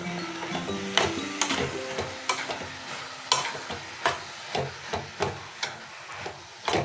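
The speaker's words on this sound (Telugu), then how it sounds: "బాగా కలుపుకోవాలి." A spoon stirs radish and tomato curry in a pan, scraping and clacking in repeated rhythmic strokes against a soft sizzle, close and distinct.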